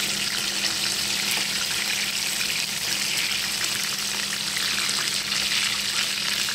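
Chicken strips and chicken fillet frying in hot oil give a steady, dense sizzle that stays close and constant throughout, with no talk over it.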